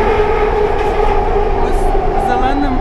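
Steady low rumble of a metro train running through a station in Kuala Lumpur, Malaysia, loud and continuous, with a voice talking over it.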